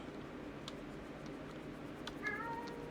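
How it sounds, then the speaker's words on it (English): A cat gives a short, faint meow in a quiet room under steady background hiss, with a few soft ticking sounds before it. "Yeah, I hear you, kitty."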